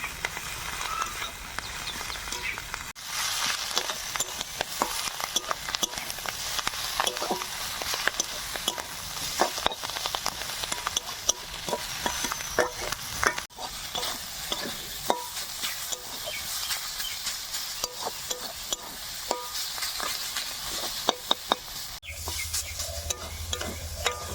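Kharkol leaves fry and are stirred in a pan for a vegetarian dish, giving a steady bright sizzle with frequent sharp scraping stirs throughout, close and continuous without talk.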